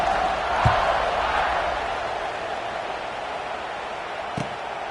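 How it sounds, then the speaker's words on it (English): A steady, dense crowd roar fills a football stadium after a Jets score, with two faint thuds, one near the start and one near the end. "this crowd is buzzing after that last score"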